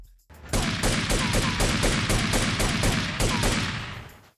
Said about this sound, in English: some pretty reasonably punchy gunshot sound effects as well